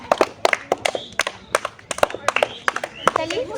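Audience clapping loudly in a rhythmic, crisp pattern of sharp close handclaps at an outdoor children's game contest, with a voice speaking partway through.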